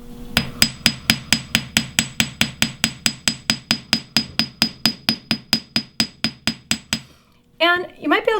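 A hammer strikes half-hard silver wire on a metal block in a steady rapid series of about thirty sharp ringing taps, close and evenly paced, then stops as a voice begins to speak.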